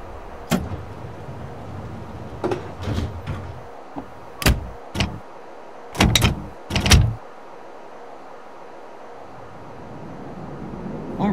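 Chicago CTA Brown Line train doors closing in the rail simulation game Railfan, heard as several short thuds and clunks spread across the clip against a quiet rumbling background.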